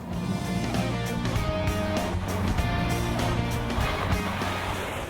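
A 2018 Volvo S90 with an automatic transmission laps a racetrack, its engine and road noise forming a loud, steady drone that holds without a break.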